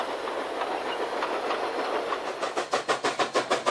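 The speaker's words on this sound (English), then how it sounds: "featuring a mixed train pulled by K-27 Mikado number 463" K-27 Mikado steam locomotive number 463 hauling a mixed train on the Cumbres & Toltec line, a steady rolling rumble that breaks into a rapid, even clickety-clack of wheels over rail joints as the cars pass close by.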